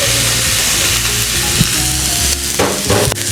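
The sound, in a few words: ground beef frying in a skillet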